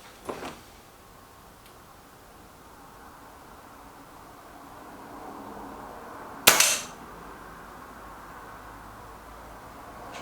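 A Reximex Myth air rifle fires a single pellet shot, a sharp loud crack that rings briefly before fading, set against quiet outdoor background hiss with a fainter click earlier.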